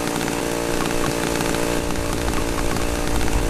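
Loud, continuous chainsaw roar from the horror game Cry of Fear during a chase, a steady buzzing engine drone with slight surges, filling the whole stretch with no talk over it.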